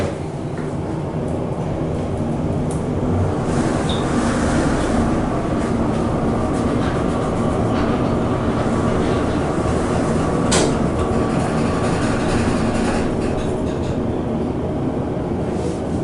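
An older ThyssenKrupp traction glass elevator car at Embassy Suites Orlando travels steadily, a continuous low rumble and hum with faint rattles and clicks from the slightly shaky car.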